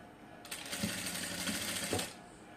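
A sewing machine stitches cut-work lace onto fabric in one steady mechanical run of rapid needle clatter, starting abruptly and stopping about two seconds later, close and moderately loud with no talking.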